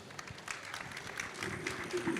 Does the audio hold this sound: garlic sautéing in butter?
no